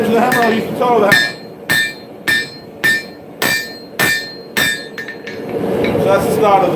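A hammer toe pounds a hot steel broadhead socket on an anvil. Eight or so sharp, ringing strikes come in a steady rhythm, close and loud, with a voice briefly heard at the start and end.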